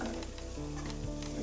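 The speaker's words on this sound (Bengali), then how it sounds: "এগুলো দিয়ে কিছুক্ষণ নাড়াচাড়া করে ভেজে নিব যতক্ষণ না টমেটোটা নরম হয়ে যাচ্ছে" Tomatoes stirred and frying in a pan of hot oil for a Bengali data chorchori with mustard paste, a steady close sizzle with soft scraping from the stirring throughout, no voices.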